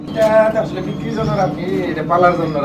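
Racer pigeons coo in short throaty bursts, close and fairly loud, repeating a few times while someone talks over them.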